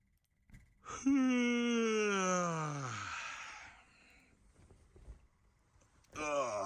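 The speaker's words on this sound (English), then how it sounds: "That's a very German yawn." A long, drawn-out human yawn, rising then sinking into a breathy moan, followed by a short pause before another voice starts.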